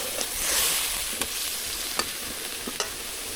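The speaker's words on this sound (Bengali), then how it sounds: "আলু কষায় মাছও কষায় রান্না।" Potatoes and fish stir-fry in a pan over a wood-fired stove, a steady close sizzle broken by several sharp scraping clicks of a spatula against the pan at irregular intervals.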